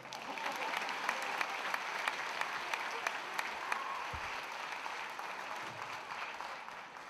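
Sustained audience applause at a school pageant show fills the room, dense and even, heard from within the crowd with scattered sharper claps and a faint low bump partway through.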